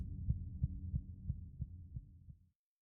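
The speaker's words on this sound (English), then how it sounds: "You feel your heart beating harder and harder, your vision fades." A heartbeat effect in the dungeon crawler game Netherwhisper thumps out about seven deep, even pulses over a low hum, then fades and cuts to silence.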